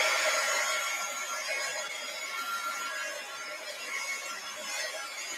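A hair dryer blows on an art journal page: a quiet, steady, airy whir that holds constant throughout with no talking.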